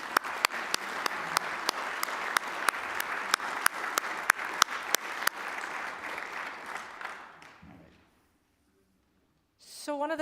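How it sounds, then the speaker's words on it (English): An audience at a church annual meeting applauds steadily, dense clapping with sharp individual claps standing out, sustained for several seconds before tapering off into silence, then a voice begins speaking. "So let's clap for them again"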